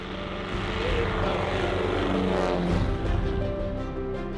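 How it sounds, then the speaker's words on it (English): A Piper Super Cub propeller plane flies over Alaskan caribou country, its engine droning steadily and loudly throughout, close and continuous, with no talk. "switches to the Piper Super Cub to get us deep into caribou country"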